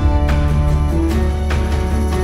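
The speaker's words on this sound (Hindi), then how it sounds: "पायल की आवाज़ को हमने एज अ ट्रांजिशन यूज़ करा है" In a music transition from a song, anklet bells and tambourine jingles shimmer over sustained orchestral tones before acoustic drums enter. The sound is loud and full, with brief bright jingle accents.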